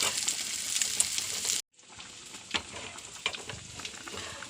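Pieces of murrel fish frying in a pan give a close, continuous hiss and sizzle with scattered pops and crackles, broken by a short cut to near silence before the frying resumes more softly.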